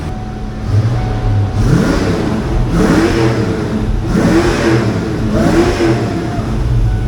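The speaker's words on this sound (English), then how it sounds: "How you like them screaming pipes?" A 1992 Ford Mustang LX Foxbody V8 with loud exhaust pipes revs hard in repeated surges, about four roaring pulls rising and falling close by at a wrecking yard, with no talk.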